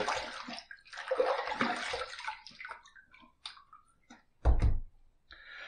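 Tap water runs and splashes while a razor is rinsed after a shave, a hissing flow that fades into scattered drips, followed by a dull knock and a brief trickle.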